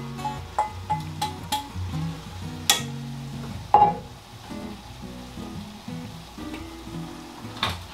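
Stir-fried ingredients go back into a pan of boiled pasta, a soft sizzle under intermittent utensil clinks and stirring scrapes, close and fairly quiet, with light background music.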